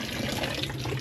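Tap water runs steadily from a faucet once the supply returns after an outage, a continuous close splashing flow with no pauses.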